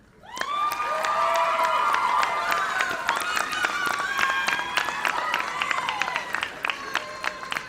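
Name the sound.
applause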